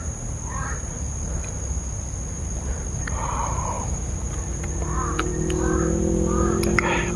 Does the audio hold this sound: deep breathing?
no